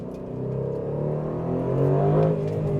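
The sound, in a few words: Aston Martin DB12 S titanium exhaust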